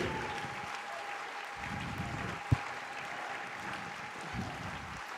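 A church congregation applauds during a prophetic service, a steady, faint wash of clapping from a crowd, with a sharp louder clap near the middle and a brief surge later.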